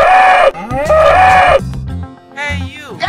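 Cartoonish cow moos in a children's animal animation, several loud, drawn-out bellowing calls with rising and falling pitch, backed by music, closely spaced and quite near.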